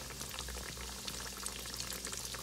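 Breaded green tomatoes frying in hot oil in a skillet give a dense, even bubbling sizzle that holds close and steady throughout, with small pops scattered on top and no voices.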